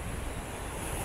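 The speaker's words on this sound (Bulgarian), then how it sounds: "Аз ти предлагам даже да не я мокрим, че много вятър има." Strong wind buffets the microphone at the Sinemorets seaside, mixing with the low roar of surf in a dense, constant rumble with no voices.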